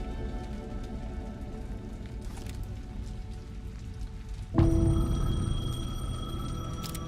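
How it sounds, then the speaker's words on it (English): A payphone rings out in steady rain in Alan Wake 2, the ring cutting in sharply partway through over a constant wash of rainfall. "The payphone was ringing."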